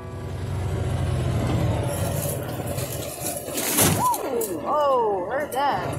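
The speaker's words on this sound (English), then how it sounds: "I used the skid plate on a rock ledge." Off-road vehicle's skid plate hitting a rock ledge on a desert trail in the Vulture Mountains near Morristown: one sharp scraping crunch over a steady engine rumble, followed by voices talking.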